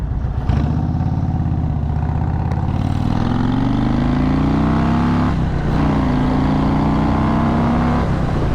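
Close engine drone rising in pitch as the throttle is rolled on during a cruise around Red Top Mountain near Cartersville, with a brief dip in the middle before climbing again.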